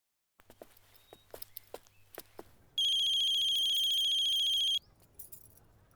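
A phone ringtone sounds loudly for about two seconds as a steady electronic tone, preceded and followed by soft footsteps and shuffling.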